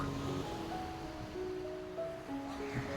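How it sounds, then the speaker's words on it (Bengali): Waves wash steadily onto Puri beach as a soft, continuous surf roar, with faint tonal hums drifting through the background. "ওয়াও, ঢেউটা কি সুন্দর আসছে।"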